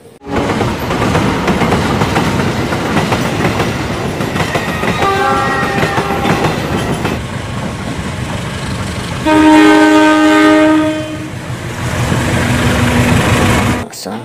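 A CC206 locomotive hauls cargo wagons past, close and loud, with steady rail rumble and clatter and two stretches of horn, the second louder and longer.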